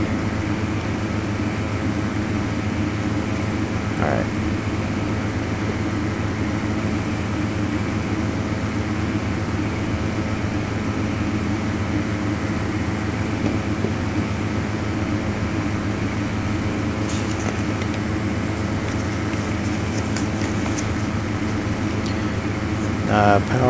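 Piper Malibu engine droning steadily in the FSX flight simulator with the throttle pulled back, a constant even hum with a steady tonal whine, and a faint brief click or two.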